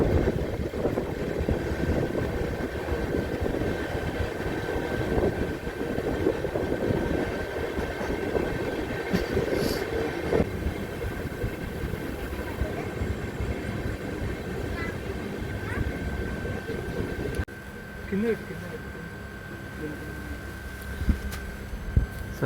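Venkatadri Express, a daily South Central Railway passenger train, runs along its route toward Kacheguda with a steady low rumble and constant hum throughout, heard close from inside the moving train, with a few brief clanks near the end.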